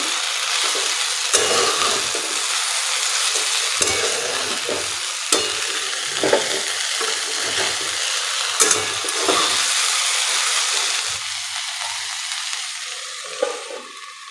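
Okra being stir-fried with salt in a pan for a crispy home-style bhindi dish: a steady close sizzle of frying runs throughout, broken by repeated scraping and stirring strokes of a spatula, with no talking.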